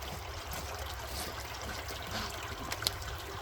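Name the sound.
natural spring water trickling from a culvert into jugs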